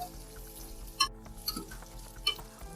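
Onions frying in a pan for turai (ridge gourd) sabzi: a quiet, close sizzle broken by several sharp stirring scrapes and clinks of a utensil against the pan.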